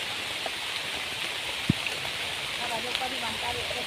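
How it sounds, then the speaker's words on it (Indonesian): Heavy rain pours onto a half-built shelter in the forest that still has no roof, a steady broadband hiss with one sharp knock partway through and faint talk in the background. "karena hari hujan"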